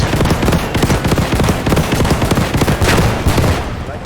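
Rapid, dense bursts of gunfire crackle continuously, loud and close, like automatic weapons firing in a video game battle; World War II shooter Squad 44 (Post Scriptum).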